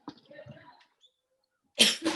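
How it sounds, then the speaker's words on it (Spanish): A single cough bursts out loudly and close after a brief stretch of faint murmuring and a pause during an emotional regulation workshop. "Aquí me ha entrado la tos."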